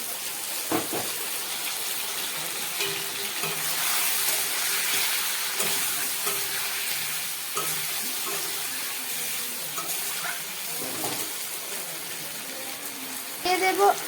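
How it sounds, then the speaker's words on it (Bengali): Ginger, cumin and green chili paste sizzling in a pan while a fish curry cooks: a steady, close, bright hiss that runs throughout, with faint scrapes and clinks and a slightly louder flare near the end. "এবার আমি এর মধ্যে দিয়ে দেব আদা, জিরে আর কাঁচা লঙ্কা বাটা।"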